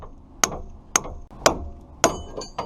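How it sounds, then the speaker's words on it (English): Four heavy metal-on-metal blows from a big hammer driving a wedge to free a tie rod end on a 1988–98 Chevy/GMC truck, evenly spaced about half a second apart, loud and close with short ringing decay. "we'll hit it with our big hammer"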